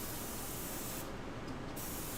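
An airbrush sprays paint in a steady, close, continuous hiss that holds even throughout, with no voices.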